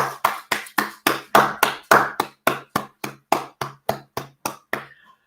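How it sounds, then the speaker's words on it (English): Steady, close hand claps in an even rhythm, roughly three per second for about five seconds, each sharp and distinct, then stopping, with no voices. "let's give everybody a round of applause who's stunning and brave right now"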